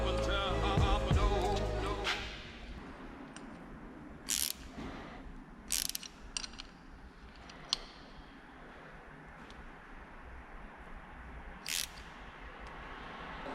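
Ratchet clicking rapidly while two 8 mm nuts are tightened on an Abarth 595 in a workshop, a quiet close metallic pawl ticking in runs, with a few sharper clanks and bumps between strokes.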